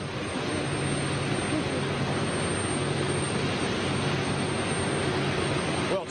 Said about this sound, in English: best sounding engine of today, this Trent, so at least you can hear the engines